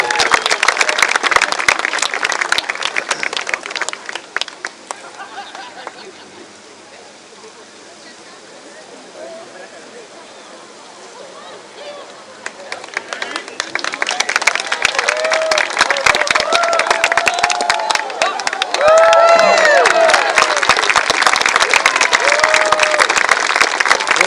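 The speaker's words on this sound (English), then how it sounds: "So he needs a big round of applause to get him stoked." An outdoor crowd claps and cheers for a heavy-events athlete about to toss the caber at Scottish games in Victoria, BC. A burst of applause dips into quieter murmur midway, then swells back while an announcer talks over it.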